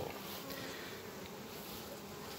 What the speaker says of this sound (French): Je suis venu prendre un petit bain d'abeilles.